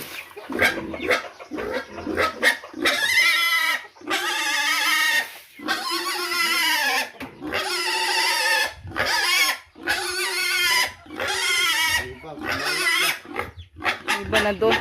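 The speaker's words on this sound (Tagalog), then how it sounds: "Inahin natin baboy" A sow on a farm gives long, loud, harsh squealing calls, repeated many times in drawn-out bursts with short gaps, close by and dominating throughout.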